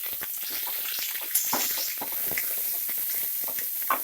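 Onion and curry leaves frying in a hot pan, a steady close sizzle with scattered crackles and pops and a few brief stirring clinks, no voices.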